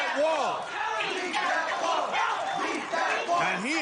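A large arena crowd roars and yells together during an American Ninja Warrior semifinal, a dense, loud, sustained wall of shouting and cheering with rising and falling pitched cries, no clear individual voice standing out.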